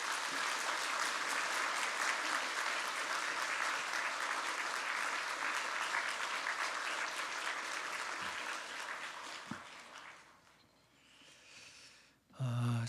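A church congregation in a sanctuary claps in sustained, dense applause for about ten seconds before it thins out and fades, followed by a brief thump at the end.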